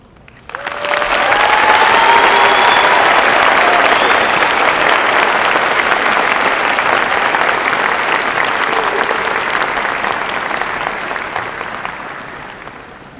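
Sustained audience applause fills a graduation ceremony for a high school class of 2025, rising quickly to a loud, steady clatter of many hands and slowly tapering toward the end, with no voices over it.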